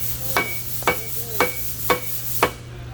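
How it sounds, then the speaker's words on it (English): A rubber mallet tapping the center post of a 950 Series variable-height table, five dull, evenly spaced knocks heard close up and on their own over a steady low hum. "You may also want to use a rubber mallet here. And you can use the mallet again."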